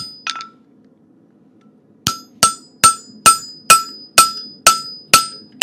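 Sharp metallic hammer blows on a fullering tool over forged metal ring out in a steady rhythm, about nine strikes evenly spaced, loud and close, after a couple of lighter taps.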